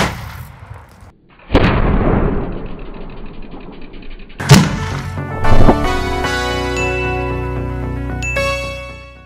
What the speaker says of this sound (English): set it off with the propane and see if it knocks the gas out the end of the barrel and makes a huge flame from it